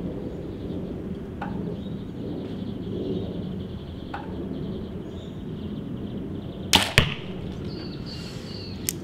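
A compound bow set up for indoor archery, shooting fat arrows with heavier points: two sharp, close releases with a quick thump, plus a couple of fainter clicks, over a steady low room hum.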